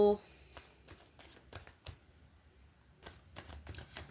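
Tarot cards shuffled and handled during a love reading, a series of short crisp riffles and snaps spaced across the moment, close and fairly quiet, with soft background noise between.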